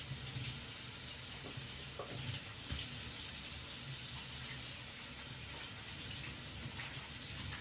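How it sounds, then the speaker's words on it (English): Hands get rinsed under a running kitchen tap beside a pan of cooking sirloin steak slices, a steady, even rush of water with faint sizzling underneath and no voices. "And then I rinse my hands off."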